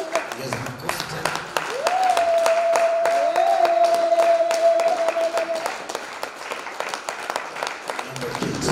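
Steady clapping from a church congregation at a Swahili morning service fills the room, dense and rhythmic throughout, with a ringing sustained tone over part of it and voices mixed in.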